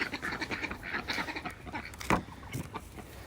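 Farm ducks and chickens calling near at hand: a busy run of quacks and clucks, some overlapping, with one louder squawk partway through and no speech.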